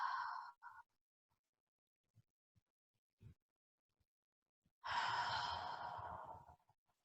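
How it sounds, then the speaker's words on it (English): Slow deep breaths during a yoga stretch: a soft exhale at the start, faint quiet movements, then one long, audible sighing breath out, close and calm with no talk. "Taking a few deep breaths here."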